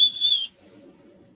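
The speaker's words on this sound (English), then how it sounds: "Do you got your dog whistle with you?" Dog whistle being blown, a single high, thin whistle tone lasting about half a second, followed by quiet low background noise.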